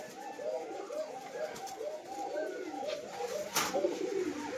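Giribaz pigeons, a local Rajshahi tumbler breed, coo steadily in soft, rolling, overlapping calls close by, with a faint background hum and no speech.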